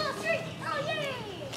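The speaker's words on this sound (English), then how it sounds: "Excuse the noise, the kids are playing in the background." Children playing soccer outdoors shout and chatter in a lively, continuous jumble, their high voices overlapping throughout.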